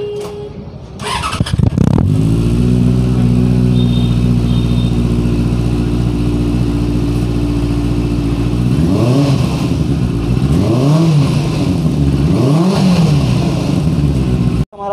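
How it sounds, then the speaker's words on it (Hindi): A 2016 Benelli 600i motorcycle with stock exhaust starts and settles into a steady idle, then is revved up and down several times, loud and close. "स्टॉक एग्जॉस्ट की कैसी साउंडिंग होती है"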